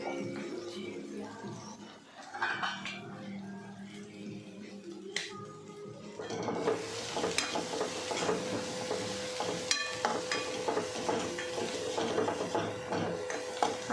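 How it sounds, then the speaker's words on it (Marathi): Onions and green chilies with turmeric and salt are stirred in a pan: quiet scraping and clicks at first, then a louder, continuous sizzle with stirring as cooking goes on. "तर मग त्याच्यात मीठ टाकून मिक्स करून घ्यायचं पूर्ण"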